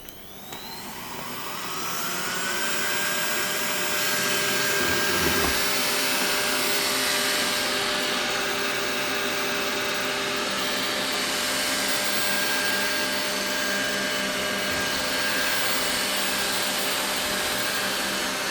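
A Roborock S5 robot vacuum cleaner runs through an apartment, giving a steady, even whir with a faint high whine that holds unbroken after a quick start-up, loud and close with no talking.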